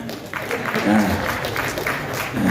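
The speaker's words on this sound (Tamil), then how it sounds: "please guy தட்டிடுங்க" An audience at a Tamil film stage event claps in a steady, moderate burst of applause that fills the room, heard alongside a voice speaking.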